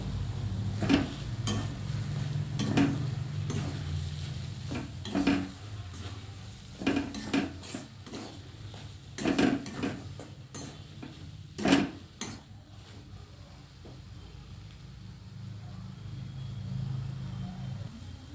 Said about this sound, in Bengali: দিয়ে আমি আবার খুব ভালো করে নাড়াচাড়া করব।